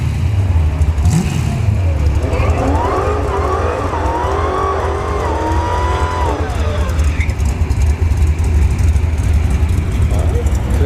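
A Dodge Charger Hellcat does a burnout at a dragstrip test-and-tune, its engine rising and holding a loud revving roar for several seconds amid a continuous outdoor rumble, with an announcer talking over it.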